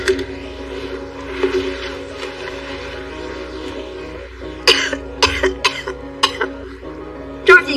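Several harsh coughs in quick succession near the end, preceded by muffled background noise and faint voices.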